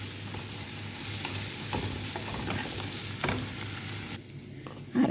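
Ginger, garlic and cumin paste with salt fries lightly in a pan for prawn heads, a close, steady sizzle marked by repeated scraping and stirring strokes.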